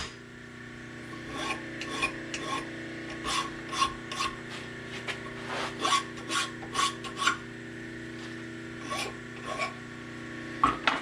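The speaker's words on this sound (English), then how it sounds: "I'll deburr this little mess here" A metal part on a Belsaw machine is deburred with a hand file, a series of close, raspy strokes in an uneven rhythm over a steady workshop hum, with no talking.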